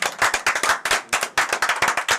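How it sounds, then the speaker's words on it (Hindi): Students clap to welcome a teacher in an exam-preparation class. The clapping is sharp, fairly close and uneven, with bursts of claps over about two seconds and no talking. "रजनीश सर का स्वागत करिए और ताली के साथ."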